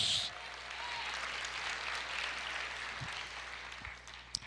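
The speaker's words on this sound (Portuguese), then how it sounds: "Você pode aplaudir o Senhor e dizer: aleluia, glória a Deus." A church congregation applauding the Lord during a Portuguese-language sermon: a faint, diffuse wash of clapping spread through a large room, steady and soft, with no voices over it.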